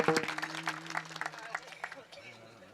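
An audience at a kirtan clapping, scattered claps over a sustained instrumental tone that taper off in the second half.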